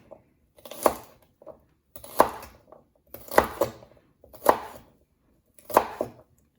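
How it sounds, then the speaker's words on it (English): A knife cuts asparagus on a slant in five crisp chopping bursts, each a sharp thud on the board followed by a pause, close and clear with no voices. "for our asparagus, we're gonna just cut them up, but we're gonna cut them on a slant"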